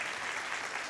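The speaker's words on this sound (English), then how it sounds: "their friends are over there cheering" Congregation members applauding in a church, a brief, even wash of many hands clapping with a faint crowd murmur.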